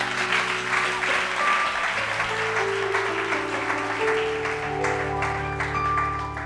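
Congregation at a church service applauding together, a dense, sustained wash of clapping that fills the room, with sustained musical tones from keyboard or organ underneath.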